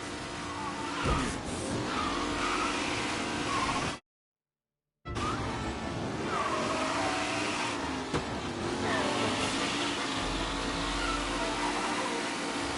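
Race cars in the Mafia video game skidding with tires squealing, engines roaring close and loud, broken by a brief silent gap before the pack noise resumes.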